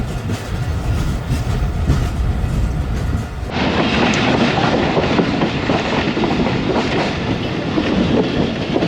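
Karakoram Express train passing slowly through Jia Bagga railway station in Pakistan, with steady loud clickety-clack of wheels and rumbling carriages running continuously close by, no talking.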